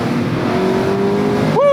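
Mazda Miata ND2 Club accelerating on a road, its engine note climbing steadily and loud from inside the car, then dipping sharply at a gear change near the end, with voices over it.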